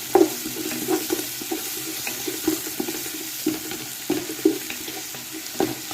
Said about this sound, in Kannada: ನೀರುಳ್ಳಿ ಟೊಮೆಟೊ ಎಲ್ಲ ಲಾಯ್ಕ್ ಫ್ರೈ ಆಡು